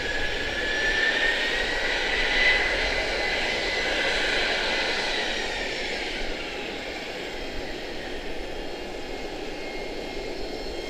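An Embraer E175 jet near Charlotte-Douglas International Airport gives a steady, moderate engine rumble and whine that holds for several seconds, then softens slightly into a lower drone.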